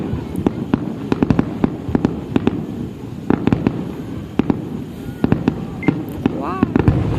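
Fireworks going off close by at a display, sharp repeated bangs and crackles in irregular volleys with a whistling rocket near the end, over crowd noise.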